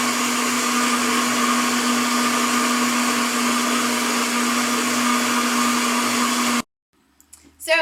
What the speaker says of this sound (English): once your blender has done its thing and pulverized your wonderful greens into more liquid form